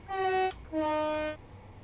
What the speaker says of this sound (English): Let's blow the horn.